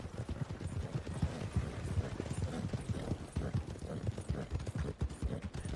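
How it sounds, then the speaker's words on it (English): A horse's hooves clip-clop in a steady, quiet rhythm during riding in Red Dead Redemption 2, with soft thuds continuing without a break. "I think we'll ride back to camp and hitch this horse that's behind me"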